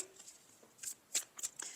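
Oracle cards being shuffled by hand, faint and close, with a few soft crisp riffles and snaps of card stock growing more distinct toward the end.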